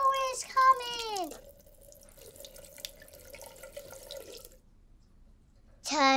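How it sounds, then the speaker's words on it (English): Water runs from a bathroom sink tap for a toothbrush, a steady soft stream lasting a few seconds between bursts of bright, high-pitched cartoon voices. "Turn on the tap. Waterfall is coming!"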